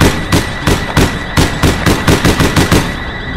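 Rapid gunfire from a weapon in the game APB Reloaded, a loud close burst of about a dozen shots in uneven rhythm with no voices.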